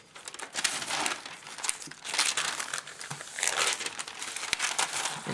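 Paper sketch being pulled out from under a sunflower drawing, giving close, busy crinkling and rustling in uneven bursts that continue throughout without a break.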